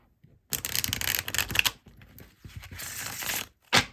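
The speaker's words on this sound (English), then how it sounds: "Because this cardstock shuffles so beautifully." A deck of cardstock oracle cards shuffles in quick riffling bursts, crisp and close, with short pauses between shuffles and a final brief flutter.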